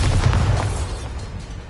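A Bombarda spell explosion in a Harry Potter video game: a loud, deep boom with a brief burst up front that rumbles and fades over a second and a half.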